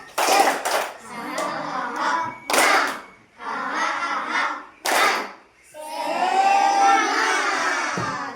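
A classroom of children doing a rhythmic spirit clap, bursts of loud patterned clapping separated by pauses, with a teacher's voice and children calling out between and over the claps, ending in a longer stretch of chanting voices.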